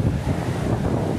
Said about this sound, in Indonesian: Ada air terjun lagi di sampingnya.